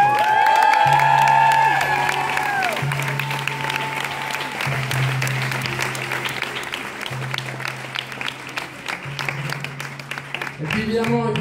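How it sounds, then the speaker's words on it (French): A concert crowd in Brussels applauds and cheers loudly for a pop show, sustained clapping and whoops filling the hall, with a low held tone from the stage beneath and a voice briefly over the noise. "Vous pouvez faire beaucoup de bruit s'il vous plaît."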